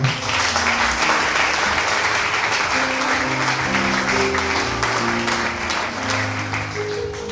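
A church congregation applauds to acclaim God, with loud, dense, sustained clapping from a large crowd throughout and organ-like tones playing underneath.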